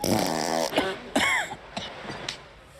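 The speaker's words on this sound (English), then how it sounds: "Fart joke." A comedic fart sound effect from the 2022 British comedy film The Nan Movie, a loud, fluttery burst up front followed by a few shorter, fainter squeaks and puffs.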